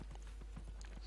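Steady clip-clop of horse hooves from the fantasy video game Dragon Age: Inquisition, a regular trotting rhythm over a constant low background hum.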